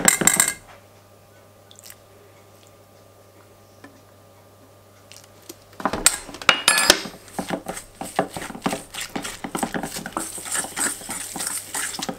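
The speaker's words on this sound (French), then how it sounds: "Je mélange, toujours avec la fourchette en appuyant un petit peu." Fork mixing in a bowl, pressed down a little, for a creamy chicken and mushroom dish, heard after several seconds of near silence as a run of close, fast clinks and scrapes against the dish.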